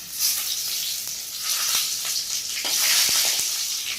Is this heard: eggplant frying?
yes